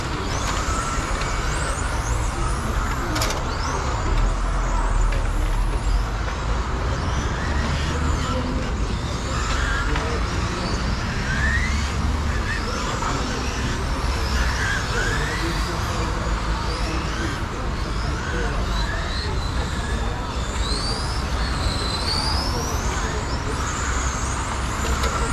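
A Tamiya TT02 RC car runs test laps with a high whine of its electric motor that rises and falls through the turns, under a steady background roar and with a voice talking at times.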